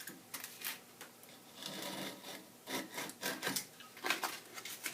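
A self-adhesive sandpaper sanding stick rubbing back and forth on wood during guitulcimer building, close, raspy strokes in an irregular rhythm with short pauses between passes.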